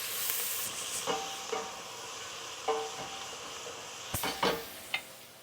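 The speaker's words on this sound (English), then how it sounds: "you just want to cook that until the onions are cooked down." Onions and chili cook down in a pan with a soft, steady sizzle, broken by occasional spoon scrapes and clinks that cluster toward the end, quiet and close with no talking.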